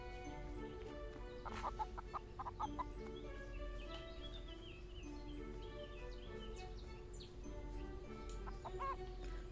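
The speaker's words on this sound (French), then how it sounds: "J'ai entendu des poules." Hens in the farming video game Everdream Valley cluck and squawk in short, scattered calls over a steady low background hum, with no talking.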